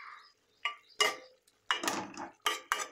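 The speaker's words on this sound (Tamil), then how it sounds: "எல்லா ஃபிஷ்ஷையும் பொறுமையாக திருப்பி போட்டுக்கோங்க" Fish pieces being turned over in a pan while making tamarind fish gravy: a handful of separate metallic scrapes and clinks of a spatula against the pan, close and moderately loud, with short pauses between them.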